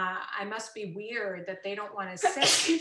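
A single sudden sneeze bursts out near the end, right after a person talking in a conversational indoor setting.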